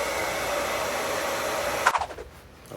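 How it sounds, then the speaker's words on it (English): A hairdryer pushed into a wet trainer blows with a loud, steady whooshing whine, then cuts off abruptly near the end, leaving a faint rattle and a quiet room. "The hairdryer shoved in the trainer."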